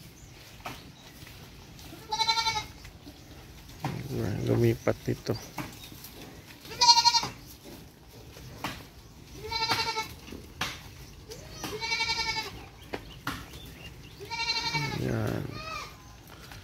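Goats bleat repeatedly at feeding time on a sunny day, several separate wavering calls spaced a few seconds apart and close by, with someone speaking quietly between them.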